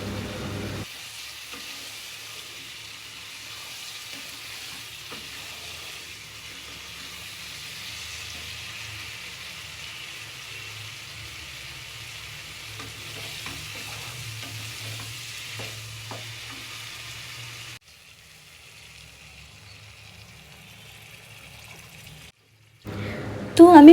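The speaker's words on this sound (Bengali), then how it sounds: "তো আমি পরিমাণ মতো জল দিয়ে দিলাম, এবারে ভালো করে মিশিয়ে নেব।" Water poured into fried masala in a pan for a hilsa fish curry, then stirred, a steady low sizzle and bubbling that drops away near the end before a brief louder clatter.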